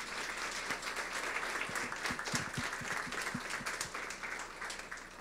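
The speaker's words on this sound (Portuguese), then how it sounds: "Maravilha, os aplausos." Applause from an audience at a 2019 indigenous language event in Brazil, steady and moderately faint, with individual claps audible throughout the wash.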